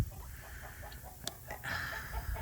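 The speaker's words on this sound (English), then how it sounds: "there's a good 50 chickens or more" Soft clucking from a flock of about 50 chickens, quiet and a little distant, with a few sharper calls over a faint background hum.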